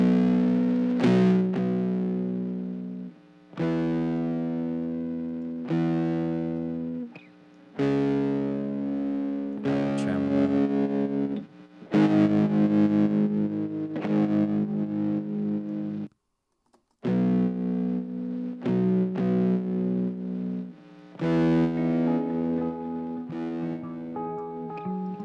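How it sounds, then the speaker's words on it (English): Distorted electric guitar power chords run through a distortion effect in Logic, played as loud, sustained strummed chords in repeated bursts with short gaps between them and no talking. "They are the power chords."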